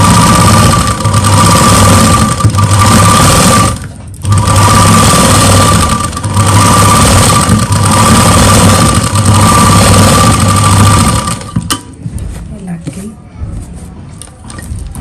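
A sewing machine stitches lace onto the plain sleeve of an embroidered suit, running in loud continuous bursts with a brief pause before stopping near the end.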